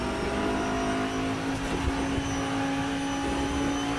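A race car engine holds a steady high drone at full throttle in the RaceRoom game at Road America, a constant tonal whine with no talk.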